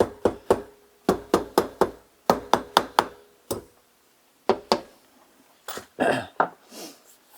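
Someone knocks a Honda CB250RS cylinder head down onto its dowels during an engine rebuild, tapping out sharp close knocks in quick irregular bursts, with a pause and rustling handling near the end.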